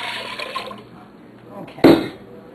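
Water poured into a cooking pot with leftover bits still in it, about four cups' worth: a brief splashing gush near the end, loud and close, after a stretch of low background noise.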